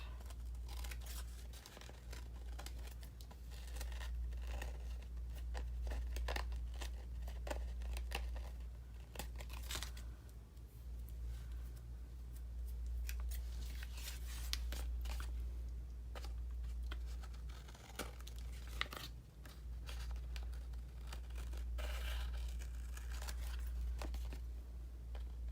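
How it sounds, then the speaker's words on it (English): Scissors trim the edges of a folded paper faux envelope journal, giving a steady close run of crisp snips and paper rustle, with a low hum underneath and no talking. "I'm going to turn this over and trim these pieces off."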